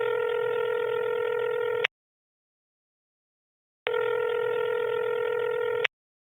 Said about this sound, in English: let's get Michael on the phone now.